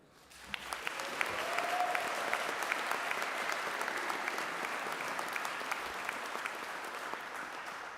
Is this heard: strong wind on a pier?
no